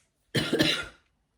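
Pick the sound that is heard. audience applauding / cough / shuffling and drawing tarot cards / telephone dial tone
cough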